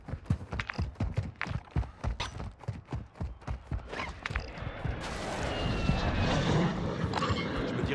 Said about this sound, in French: Reçu, le drone survole la zone des opérations.